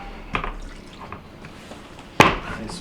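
Water dribbles and drips from a disconnected GE dishwasher fill hose, with two sharper splashy bursts, one early and a louder one near the end, over a quiet background.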